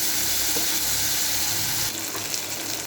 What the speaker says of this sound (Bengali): এবার একটু সামান্য জল দিলাম।